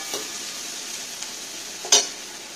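Onion, green chili and spring onion frying in oil with cumin, a soft steady sizzle with a couple of brief stirring knocks, one louder near the end.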